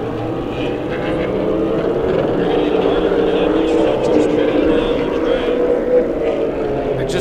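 Super late model race cars roaring around the Las Vegas Bullring oval in a B-main, a loud, continuous engine drone with a commentator talking over it.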